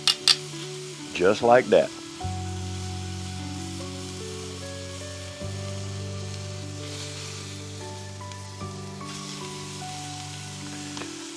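Jerk chicken cooking over high heat sizzles in a continuous steady hiss that runs throughout, with a few clanks near the start and a voice speaking briefly over it.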